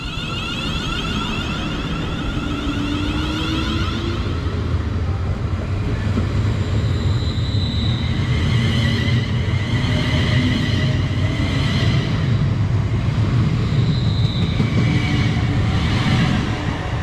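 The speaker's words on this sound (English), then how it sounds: "off goes the 1535 service to Crewe" A Class 350 electric multiple unit departs on a Crewe service, its steady rolling rumble and rising motor whine holding loud and close for the whole stretch, with no talk over it.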